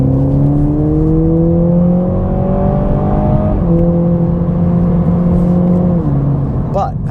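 A 2.0-litre Toyota Supra engine pulls hard through rising revs, climbing twice with a brief shift dip between, loud and close from inside the car.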